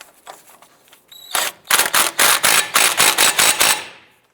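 A cordless impact wrench runs on a Honda Civic CV axle nut in a sharp burst of rapid, loud, close hammering that lasts about two and a half seconds. A faint click and whir come just before the burst.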